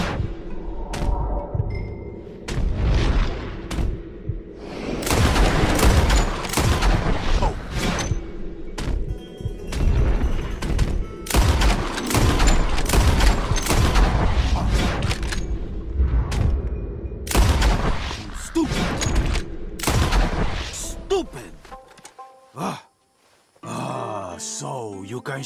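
Gunshots at flying birds in Red Dead Redemption 2, a series of sharp loud cracks scattered irregularly over the clip, some in quick clusters, with game ambience and occasional voices between them.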